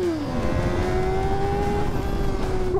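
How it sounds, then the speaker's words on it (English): Kawasaki ZX-6R sport bike, 2024 model, revs with a smooth, steady whining engine tone that dips slightly then holds, fairly close and alone. "listen to that engine"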